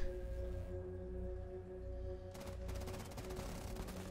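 F2 assault rifle firing in Rainbow Six Siege, a rapid automatic burst of closely spaced shots breaking in sharply after a quieter stretch of steady game background hum.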